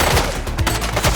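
Rapid gunfire in the police video game The Precinct, a dense, loud burst of overlapping shots packed into one short stretch.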